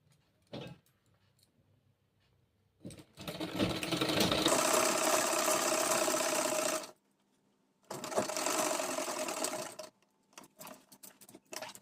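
Sewing machine stitching a kurti, two sustained bursts of fast whirring, the first about four seconds long and the second about two and a half, separated by quiet pauses with faint handling clicks.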